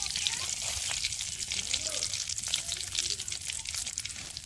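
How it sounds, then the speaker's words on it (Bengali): Whole bay leaves and dried red chillies crackle in hot oil in a wok, a dense, close, continuous sizzle with a faint voice underneath. "কড়াইয়ের মধ্যে প্রথমে গোটা তেজপাতা আর গোটা শুকনো লঙ্কা দিয়ে দিলাম।"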